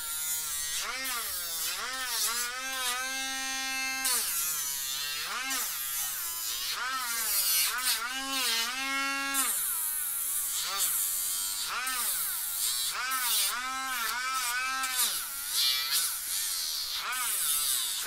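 Someone files a pet dog's nails with an electric nail grinder. The buzzing whine comes in repeated bursts, rising and falling in pitch as it presses on each nail, and it stays close and steady throughout.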